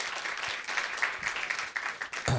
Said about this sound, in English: So let's have another round of applause for Dennis Raverty.